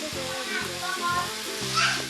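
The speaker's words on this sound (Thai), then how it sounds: "เรามาฟังเสียงน้ำมัน แตก แตกมันกันนะครับ" Hot oil sizzles steadily in a pan with scattered crackling pops while frying pork cracklings for chili paste, as someone talks over it in a low voice.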